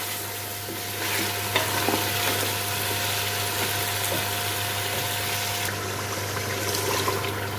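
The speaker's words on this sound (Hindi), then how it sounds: "और इसे भूनूंगी मैं तकरीबन 10 मिनट के लिए।" Goat trotter masala being fried in oil for a paya curry, with a steady, close sizzle and occasional stirring scrapes, plus a constant low hum from the stove or a pump beneath it.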